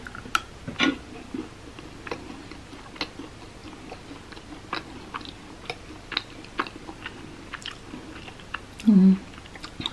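A bite of Nepali chow mein chewed close up, with soft, irregular wet clicks and mouth noises spread across the stretch and a brief low hum near the end.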